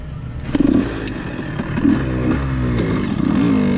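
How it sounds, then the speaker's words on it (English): A two-stroke 125cc dirt bike engine, a Honda CR125 or Kawasaki KX125, runs close by, with a buzzy idle that blips up into short revs and settles back into a steady ringing drone. "Bike runs good though. It's running good right now."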